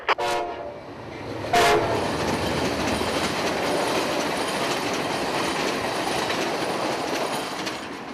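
Amtrak 89 passenger train at the south end of Winston Pass near the Lakeland double track, opening with a loud horn blast, then a steady roar and clatter of the cars rolling past close by, with no talking.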